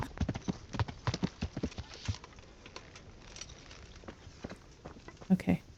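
Video game horse hooves clip-clop at a steady walking pace, close by, fading to quieter steps before a couple of louder thumps.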